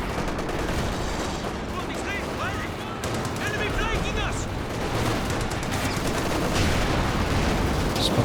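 Dense machine gun fire and scattered shots rattle through a Company of Heroes 2 2v2 battle, continuous and fairly loud across the whole stretch, mixed with battlefield noise and a commentator talking over it.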